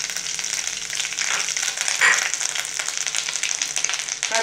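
Dried red chillies and grated coconut fry in hot oil, giving a steady close sizzle with light crackles and a brief brighter burst partway through.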